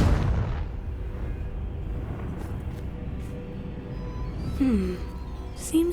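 Confringo spell explosion in the video game Hogwarts Legacy, a booming blast at the start that trails into a rumbling decay, followed by faint game effects and short tonal chirps.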